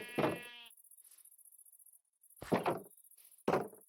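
Sheep bleat in the WonderWorld video game at a newly built pen: a loud bleat at the start, then after a quiet gap two more bleats follow close together, with no talk over them.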